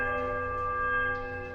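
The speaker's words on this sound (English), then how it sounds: "The right smaller bell." A smaller temple bell rung in the video game Pillars of Eternity, a steady sustained metallic tone with bright overtones that rings on and slowly fades, heard alone.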